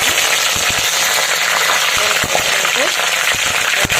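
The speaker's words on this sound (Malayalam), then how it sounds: "ഇനി നമുക്ക് എണ്ണ ചൂടായി ഒന്ന് കടുകിടാം" Mustard seeds spluttering in hot coconut oil for a rabbit roast, a dense steady crackle with sharp scattered pops throughout, loud and close.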